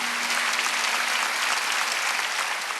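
A church congregation at a Wednesday worship service applauds in a steady, dense wash of clapping that holds evenly for the whole stretch, moderately loud and without voices on top.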